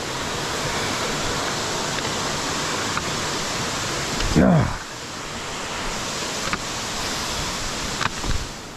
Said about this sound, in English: that's a damn waterfall